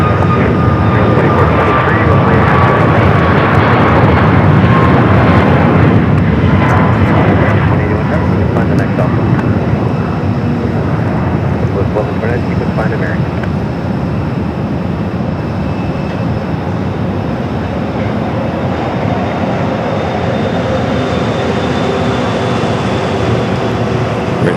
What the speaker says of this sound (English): Flight taking off, heading to Charlotte, flight 1678, A321